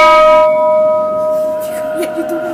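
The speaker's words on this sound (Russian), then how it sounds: "А вот я иду к знаменитому колоколу, чтобы ударить" A large, famous bell in Istanbul is struck, ringing out loud and close, its deep sustained tone with ringing overtones slowly decaying, with faint voices in the background.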